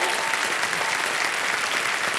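A studio audience on the KBC game show breaks into steady, dense applause that stays loud and even for a couple of seconds without a break.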